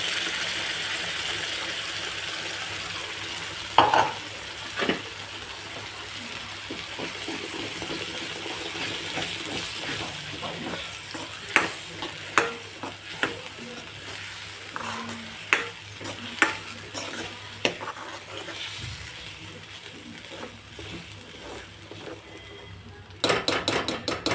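Steady sizzling of ground peanut, green chilli and coriander paste frying in a pan, with a spoon stirring and scraping now and then, and a few sharp clinks against the pan.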